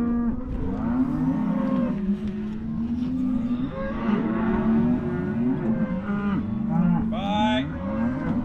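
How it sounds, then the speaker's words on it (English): Cattle on a ranch mooing in long, loud, drawn-out calls one after another, close by, over a steady low background rumble. "That's old cow."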